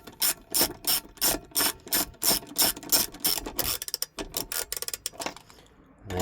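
A ratchet wrench clicks as bolts are tightened in diagonal order during a diesel heater install, close, loud bursts of rapid clicking strokes, quickening toward the end, with no talking.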